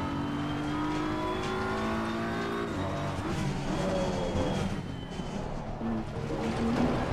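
A race car engine in the video game Assetto Corsa Competizione drones steadily and loudly, its pitch sliding as it revs and shifts, with no talk over it.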